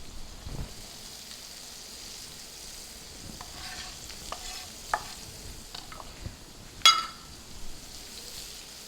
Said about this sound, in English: Getting a nice sear on these scallops.